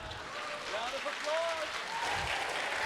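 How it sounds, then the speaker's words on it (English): Audience applause after a startup pitch at a competition final, a steady wash of crowd clapping that runs under a faint voice. "Round of applause."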